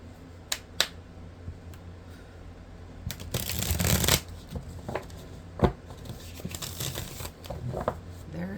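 A tarot deck is shuffled to pull clarifier cards: scattered card snaps and flicks, then longer riffling bursts midway and later, close and fairly quiet.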